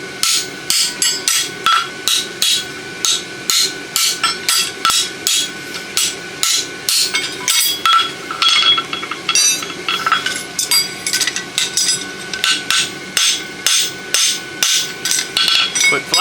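Hammer blows driving a pritchel through a forged 1/2" by 3/4" roadster horseshoe on an anvil, a long run of sharp ringing metallic strikes in quick regular rhythm, close and loud, with brief pauses between bursts.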